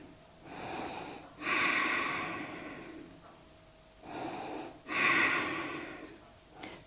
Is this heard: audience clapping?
no